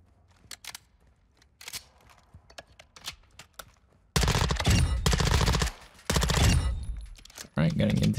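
Platinum BAS-P rifle firing at range in Modern Warfare 2: a few sparse clicks and single shots give way to long, loud bursts of rapid automatic fire, broken by short pauses.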